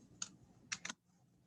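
Three quick clicks of a computer keyboard being typed on, close and quiet, with a short gap after the first keystroke.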